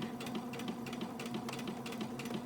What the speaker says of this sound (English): Just try to sew it as straight across as you can.